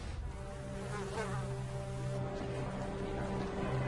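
A mosquito buzzes in a steady, continuous high whine that stays close and fairly even throughout.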